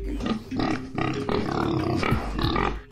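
Pigs squeal and grunt in loud, overlapping bursts, harsh and close, repeating in rough waves across the whole stretch.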